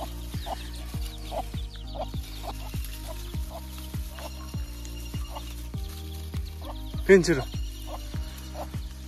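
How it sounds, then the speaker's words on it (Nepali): Domestic chickens cluck in a short, steady series of calls at close range, with a louder burst near the end, while a person speaks in the background. "सब कुखुराहरू त बारीतिर पो।"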